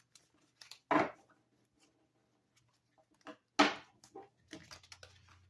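Tarot cards shuffled by hand in a few short, crisp bursts of riffling and tapping, separated by quiet pauses, close up with no talking.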